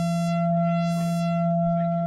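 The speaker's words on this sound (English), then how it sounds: "So you start with a sine wave, and you can tilt this sine wave" One steady sine-wave tone from a Clank Uranograph synthesizer holds its pitch while the wave is tilted, its brighter overtones sweeping up and down, slowly reshaping the timbre.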